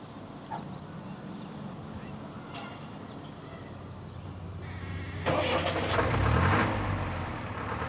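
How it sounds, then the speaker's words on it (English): An engine revs, its low drone starting quiet and swelling into a louder, rising roar in the second half before easing slightly, heard over a faint background hiss. "While the engine is revving, the mirror is fairly free from vibration."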